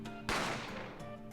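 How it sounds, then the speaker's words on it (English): A single sharp gunshot cracks out in The Great Ace Attorney Chronicles video game, a loud sudden burst that decays over a second beneath a sustained low musical tone. "A gunshot rang out"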